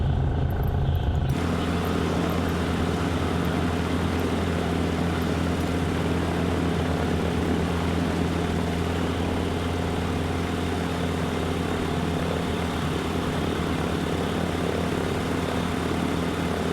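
A propeller airplane idles on the ground in Microsoft Flight Simulator 2020, giving a loud, constant droning engine hum that holds steady throughout after a brief quieter start, with no talking.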